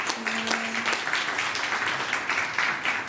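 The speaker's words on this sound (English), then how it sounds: "A round of applause for Ecodicta" An audience at a demo day for circular-fashion startup pitches claps for a startup, a steady moderately loud wash of many hands with distinct individual claps standing out, lasting around three seconds.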